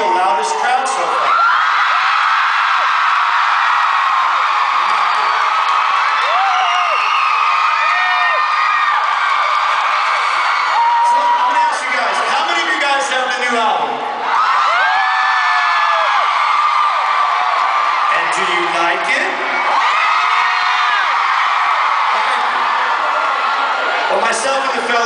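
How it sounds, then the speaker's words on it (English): A loud arena concert crowd at a show cheers, screams and whoops without a break, with shrill high-pitched voices rising and falling in waves throughout. "I think this quite possibly could be the loudest crowd so far"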